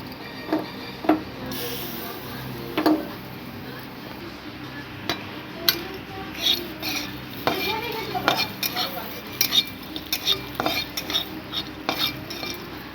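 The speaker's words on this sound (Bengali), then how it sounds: "কড়াইটা গরম হয়ে গেছে, দিয়ে দেবো বিরিয়ানি মশলাটা দিয়ে আমরা ভেজে নেব" Dry biryani spice mix is stirred in a hot kadai, with repeated metallic scrapes and clinks of a spoon against the pan in irregular bursts over a faint background sizzle, close by.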